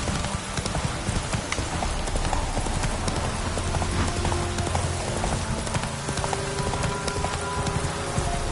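Roach, the horse in The Witcher 3, clip-clops along with a steady rhythmic beat of hooves, close and loud, against a dense patter that sounds like rain.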